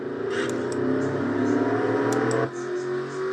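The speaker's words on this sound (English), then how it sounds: "Jessica having trouble getting her car to start." A stock car in a Castrol GTX Cup Series racing video game struggling to start, engine drone and whirring holding steady before cutting off abruptly, with pack race cars roaring in the background.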